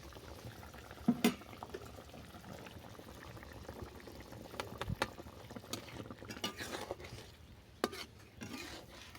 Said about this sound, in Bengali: মাছটা তিন মিনিট ফুটিয়ে নেওয়ার পর দিয়ে দিচ্ছি সাথে সর্ষে বাটা